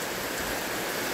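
Steady rain hissing on surfaces, a dense continuous wash of droplets with no other sounds standing out.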